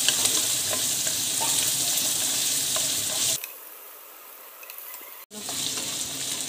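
Finely chopped carrot and French beans fry in a pan for South Indian lemon rice, a loud, steady sizzle with stirring that drops off abruptly partway through, then resumes after a brief click.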